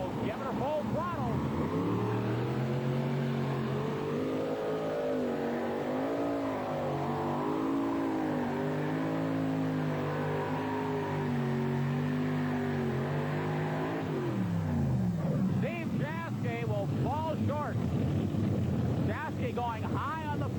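A modified pulling tractor engine roars at full throttle during an NTPA pull in Atco, New Jersey, a loud sustained drone with shifting pitch that drops off near the end, followed by faint crowd and announcer talk under wind.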